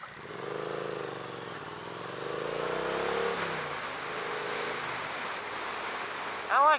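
A 2017 Triumph Street Twin motorcycle is ridden, its engine note rising and falling through several revs and gear changes. The sound is moderately close, with wind noise and a short louder burst at the end.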